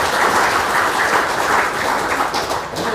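A crowd gathered for a sermon breaks into loud, dense applause, continuous and even throughout with no pauses.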